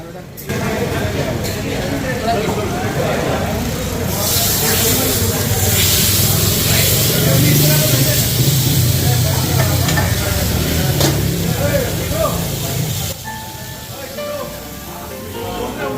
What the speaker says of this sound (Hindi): अपनी निहारी में देसी घी का तड़का लगाकर